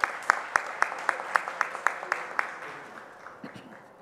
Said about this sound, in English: a round of applause for the runners-up of the evolving category